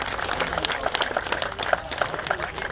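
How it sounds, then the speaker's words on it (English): Audience applause at an outdoor classic car and emergency vehicle show, honoring the makers of the trophies; a steady wash of many hands clapping at moderate distance throughout, with a few sharper individual claps standing out. "let's give them a round of applause for their efforts"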